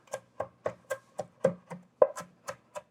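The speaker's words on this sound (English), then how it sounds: "I'm gonna give it a rough chop just to make sure some of the big chunks get a little cut up" A knife roughly chops freshly grated ginger on a cutting board, about eleven crisp, fairly evenly spaced strikes close up, with no voices.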